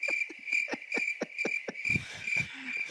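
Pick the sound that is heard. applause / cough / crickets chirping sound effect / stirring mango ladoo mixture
crickets chirping sound effect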